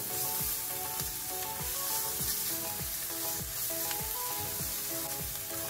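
Green chillies and ginger garlic paste sautéing in a pan crackle with a bright, continuous sizzle, stirred in regular quick strokes about twice a second, close up, with faint music behind and no talking.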